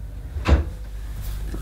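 A drawer is pulled open to fetch a suction gauge for testing a Hitachi CV-790 bagless vacuum cleaner, giving one short, dull wooden thump close by, with no talking.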